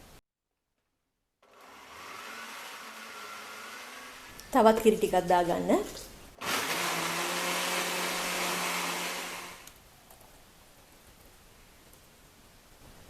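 An electric blender whirs in two short bursts, mixing sweet potato batter with milk, egg, sugar and vanilla; a voice speaks briefly beforehand, and the motor runs alone with a brief pause between bursts.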